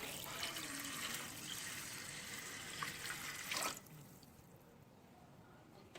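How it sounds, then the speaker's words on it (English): Water runs steadily in a continuous pour into a pot for several seconds, then cuts off abruptly, leaving a faint quiet background. "I'm going to be adding 4 cups of water."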